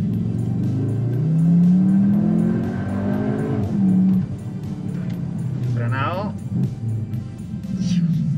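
A 2021 Cupra Formentor launching hard with launch control, its turbocharged engine rising in pitch through the gears, then a short lift and further revving with brief tire chirps, loud and close.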